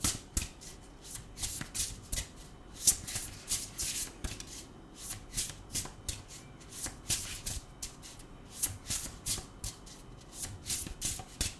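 Tarot cards are shuffled repeatedly at close range, quick riffling bursts in an uneven rhythm, quiet and crisp with no voices.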